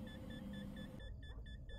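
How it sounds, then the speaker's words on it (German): Camera beeping in the horror game Fears To Fathom, Carson House: a steady electronic tone pulses in short, evenly spaced beeps over a low ambient rumble, with no speech. "Die Kamera piepst."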